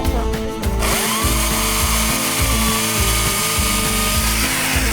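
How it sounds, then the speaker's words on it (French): A small, light electric chainsaw cuts small pieces of wood outdoors in winter, its motor a loud, steady, continuous whine close by after a brief start, with a chain that struggles to bite. "Maintenant prenons l'électrique pour couper les petits morceaux."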